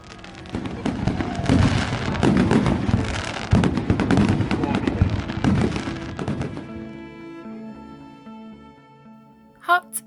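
Bonfire night fireworks whooshing and crackling in a dense, loud volley for several seconds, then cutting off to quieter tonal sounds and a brief final squeal.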